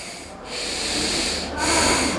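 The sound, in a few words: deep exhale through the nostril in breathing exercise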